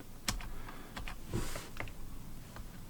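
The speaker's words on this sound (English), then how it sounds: "press A on the keyboard just to bring it into alpha mode, and Control plus to zoom in" Light, scattered keystrokes on a computer keyboard click at an irregular pace, with one sharper tap early, heard close against a quiet room background with no talking.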